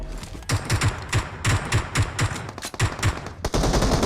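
Gunfire in the mobile shooter PUBG Mobile: loud, close automatic bursts of rapid shots repeating in a steady rhythm for about three seconds, then a brief gap before a denser barrage, with no talking.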